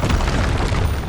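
A Confringo fire spell explodes in Hogwarts Legacy as a loud, dense, booming burst that fills the whole moment with a rumbling roar, with no voices audible.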